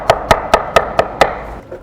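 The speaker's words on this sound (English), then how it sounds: "we'll just cut around the core of the pineapple and get rid of that" A knife chops through a pineapple on a board, six sharp, evenly spaced cuts in a quick steady rhythm, close and loud with no talking.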